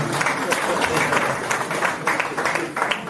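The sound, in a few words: audience applause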